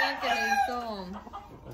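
A rooster with a plaster cast on one toe crows on a ranch, a loud, close, drawn-out cock-a-doodle-doo that falls in pitch, with light background noise and no talk.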